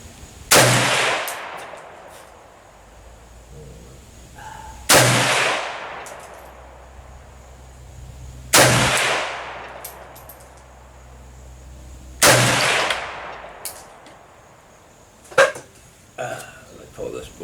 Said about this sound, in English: I'm just shooting to shoot